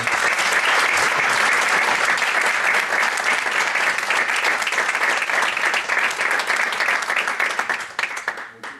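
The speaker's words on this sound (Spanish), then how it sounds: "nos despedimos de ti, Domingo, con un fuerte aplauso" A congress audience gives a strong, dense round of applause after a videoconference talk, sustained and loud for about eight seconds before tapering off at the end.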